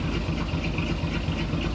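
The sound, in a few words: 1954 Chevy 210 exhaust while idling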